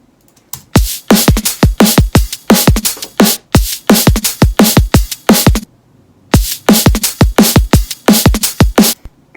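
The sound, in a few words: layered electronic drum beat with hats, shakers and cymbals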